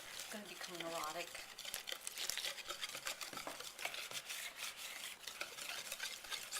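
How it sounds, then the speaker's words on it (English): Cake batter for raspberry, cinnamon and cocoa cakes is whisked in a bowl with brisk, rapid scraping strokes. The whisking is fairly quiet, and a voice is briefly heard near the start. "So you whisk it."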